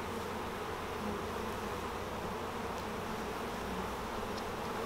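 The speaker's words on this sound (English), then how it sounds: "that's why we shake the bees off, because we will miss them for sure" Honey bees buzz steadily during a sunny-day hive inspection for swarm control, a dense, continuous hum that stays close and even throughout with no talking.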